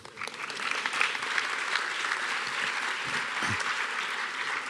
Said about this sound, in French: après que vous ayez applaudi cette magnifique phrase